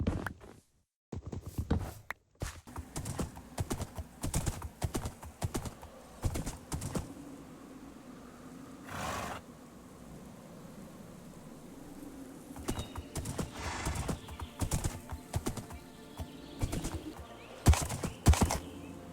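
Steady clip-clop of horse hooves walking at an even pace in the video game TerraFirmaGreg, crisp and fairly close, with a few quieter stretches and no voices.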